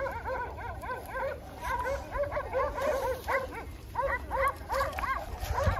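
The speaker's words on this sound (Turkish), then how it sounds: "Çay köpekleri de karşıdan bağırıyor." Several dogs bark repeatedly from across a stream near a sheep pasture, a busy overlapping chorus of yaps and barks at moderate distance over a low outdoor rumble.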